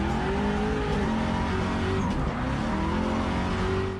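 A drift race car driven by an armless racer slides with a loud sustained tire squeal over a roaring engine, the screech wavering in pitch and holding on continuously throughout.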